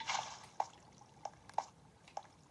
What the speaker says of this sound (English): Make an infinite water source